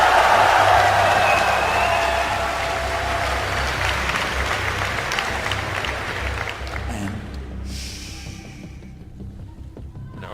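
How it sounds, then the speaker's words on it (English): Large crowd at BlizzCon 2011 during a StarCraft II tournament match, cheering and applauding loudly, then thinning out as the noise fades, with a commentator's voice running over it. "give a cheer for the underdog in this series, IM's MVP!"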